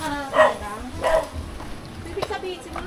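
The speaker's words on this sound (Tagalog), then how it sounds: "Dito tayo kasi maingay yung aso." Dog barking twice nearby in quick succession, then fainter yips, with people talking close by.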